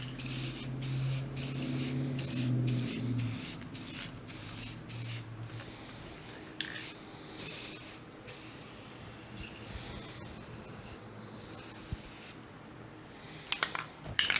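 Repeated short bursts of spray paint hissing from a can, close and loud, with pauses between sprays over a low background hum.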